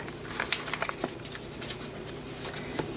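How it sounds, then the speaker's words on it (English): Scissors trimming the edges of a paper planner page, a quick series of crisp snips and papery rustles, close and faint with no talk. "So I just trim the edges."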